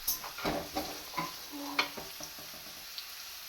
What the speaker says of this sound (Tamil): எண்ணெய் போட்டாச்சு கடுகு உளுத்தம்பருப்பு போட்டு ஆனியன் போட்டிருக்கேன் பூண்டு போட்டிருக்கேன்